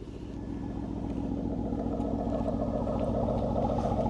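A Porsche SUV's V6 exhaust in sport mode, flaps open, burbles deep and throbbing at close range, a low rhythmic pulse that holds constant without any voices.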